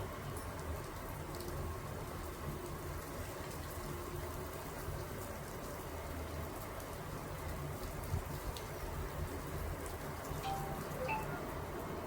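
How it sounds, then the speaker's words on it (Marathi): Heavy rain pours down in a steady, even hiss that holds constant throughout, with a few faint bird calls just audible underneath. "चांगलाच पाऊस येते हा, चांगलाच येते"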